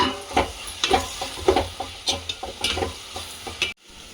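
Ginger garlic paste and mint sautéing in a pan for tomato rice, with steady sizzling under repeated scraping and stirring clicks from a spoon, then a sudden stop near the end.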